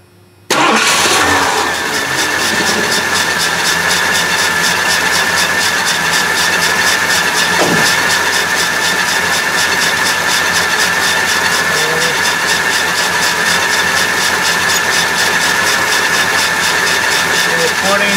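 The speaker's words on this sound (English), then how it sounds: "And I will start this engine." An RV engine with carburetor trouble cranks and catches after a brief quiet moment, then runs at a loud, steady idle with a persistent whine, close up and without talk.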